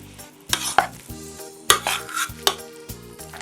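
A filling of mashed potato, onion with pork cracklings and boiled buckwheat being mixed in a bowl, a few soft, close scraping strokes with short pauses between them, no talking.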